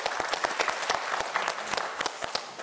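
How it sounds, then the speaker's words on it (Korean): Studio audience claps in encouragement for a student contestant on a science quiz show, a lively burst of many hands with crisp individual claps standing out, fading slightly toward the end. "자, 역시 진병찬 학생의 선전을 기원하면서 저희가 또 응원의 박수를 보내줬습니다"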